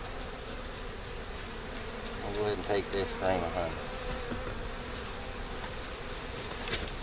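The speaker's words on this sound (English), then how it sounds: "break these bees off." Honey bees swarm around an opened hive frame in a continuous close, steady buzz, while someone talks briefly over it.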